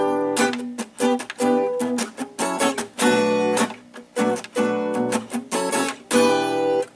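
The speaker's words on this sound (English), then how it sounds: "I'll play a little bit on the acoustic guitar just to try and accent it." Acoustic guitar strums funky chords in a syncopated pattern, short choppy strokes with sharp accents and brief gaps, close and clear with no talking.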